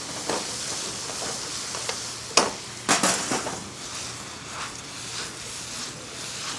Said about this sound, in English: So you can hear the way this is sizzling, right?